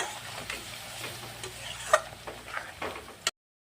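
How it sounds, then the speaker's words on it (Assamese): Masala frying in a pan for a coconut egg curry, a soft low sizzle with light scraping and stirring taps, quiet and close, with no one speaking. "আৰু অলপ টাইম এনেদৰে ভাজি ল'ম"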